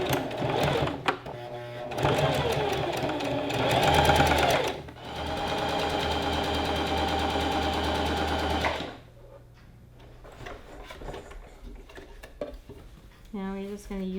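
A sewing machine runs in long continuous bursts as it stitches two gathered-skirt fabric pieces together, stopping briefly between runs, loud and close, then falls quiet with light handling clatter and a short voice near the end.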